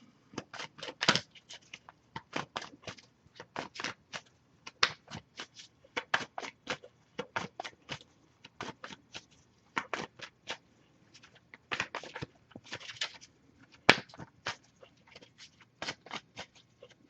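An oracle card deck being shuffled by hand, with quick papery riffles and slaps arriving in steady bursts across the whole stretch, close and fairly quiet, with no talking.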